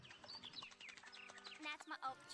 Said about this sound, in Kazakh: Ана жақта құс шомылып отыр.